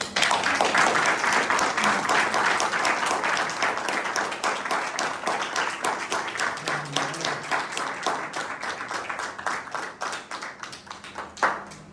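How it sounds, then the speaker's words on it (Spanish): Audience applause at a tribute ceremony honouring a doctor at an institute, steady dense clapping from a room of people that gradually thins into scattered claps before fading out. "Creo que se merece un fuerte aplauso."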